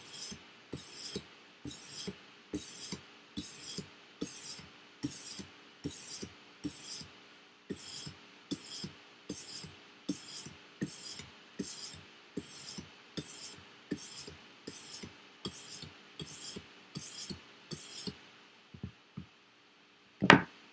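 A kitchen slicer blade is drawn across a sharpening stone in a fast, even rhythm of rasping strokes, about one per second, close and quiet, ending with a short pause and a final louder scrape.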